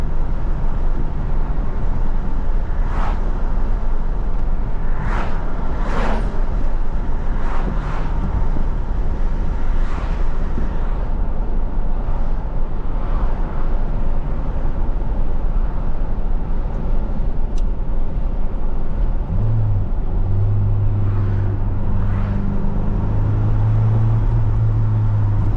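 A 1985 Ford Thunderbird Turbo Coupe with a manual gearbox accelerates through turbo lag, its engine a steady loud drone with rising revs and a low tone that swells near the end.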